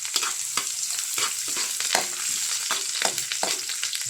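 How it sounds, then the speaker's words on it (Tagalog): Ginger and spices sautéing in a hot pan for tochong bangus, a steady close sizzle broken by repeated scrapes and clatters of stirring, with no talking. "Gigisa muna natin yung ating mga rekado."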